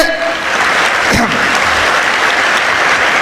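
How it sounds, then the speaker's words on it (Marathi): A seated audience claps for themselves at a comedy speech event in Washim, a dense, steady wash of applause filling the whole stretch with no voice on top. "सर्वांनी एकदा स्वतःसाठी टाळ्या वाजवा"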